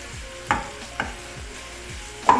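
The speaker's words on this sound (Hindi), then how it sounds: "इसको भी अच्छी तरह इसमें भूनना है।" Minced chicken fries in hot oil with garlic and ginger, a soft steady sizzle broken by a few regular spoon-scraping stirs in the pan at close range.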